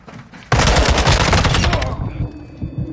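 A loud burst of rapid automatic gunfire from a video game gunfight erupts after a quiet half-second and rattles on steadily for about a second and a half before fading into softer game ambience.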